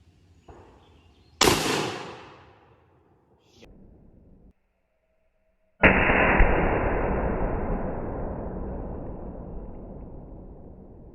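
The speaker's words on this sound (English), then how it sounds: "So we're gonna shoot one more just for good measure" A gunshot fired at a helium tank: one sharp, loud, close crack with a ringing tail, then a few seconds later a loud sustained rushing blast that slowly fades.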